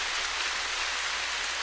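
Steady rainfall in the video game The Path, a dense, even hiss of falling rain heard alone without a break across the whole moment.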